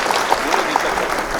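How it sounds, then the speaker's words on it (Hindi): Audience applause at a Hindi comedy poetry gathering (hasya kavi sammelan), a steady moderate wash of clapping that holds evenly throughout with a few slightly louder claps standing out. "अरे नहीं, जोरदार तालियां, जोरदार तालियां।"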